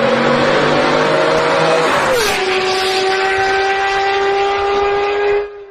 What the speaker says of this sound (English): The Japanese tuner Gawashi Sasaki, that was first to transform the Mercedes S600 V12 into a F1-like sounding car.